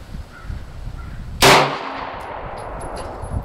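A single sharp gunshot from a Glock or Ruger pistol at an outdoor range fired at a 2x10 target, loud and close, with a quick echo trailing off into quiet.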